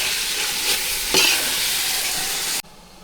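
Mint and coriander fry in a hot pan with steady, loud sizzling and brief stirring scrapes, broken by a sharp clatter near the middle, before the sound cuts off abruptly.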